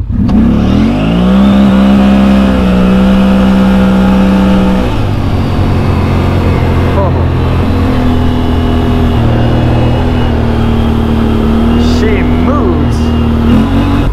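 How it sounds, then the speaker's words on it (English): A vehicle fitted with a CVTech clutch kit revs loud and close, its engine climbing sharply in pitch, dropping, then holding a steady high-RPM drone as it accelerates and pulls hard. "you're going to hear a big RPM increase off the line"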